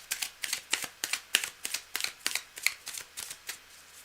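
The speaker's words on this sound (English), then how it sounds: "You can't shuffle the cards for me. I have to do this myself." Cards for a tarot-style reading are shuffled close up, giving quick, uneven bursts of crisp flicking and slapping, with no talking.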